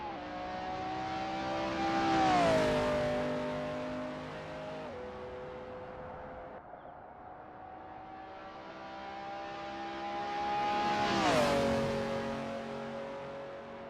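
A McLaren F1 GTR race car in a racing video game at the Daytona road course revs loudly. Two nearby engine passes rise and fall in pitch, with a steady engine drone in between.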